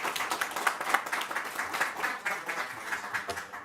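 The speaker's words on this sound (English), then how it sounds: "Let's give Kim Minkle a round of applause" A small group claps for Kim Minkle at a COVID-19 vaccination site at Sahlen Field in Buffalo, scattered hand claps at moderate distance, fairly faint and uneven, without talk.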